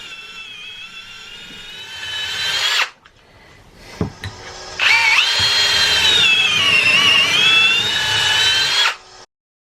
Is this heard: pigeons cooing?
no